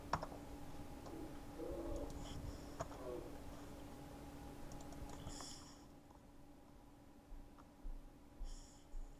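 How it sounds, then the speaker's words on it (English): Someone types ipconfig on a computer keyboard and presses enter: a run of soft, quiet key clicks in the first few seconds, then a few separate taps near the end, with a steady electrical hum underneath. "So you're going to type IP CONFIG, and that is for the IP configuration."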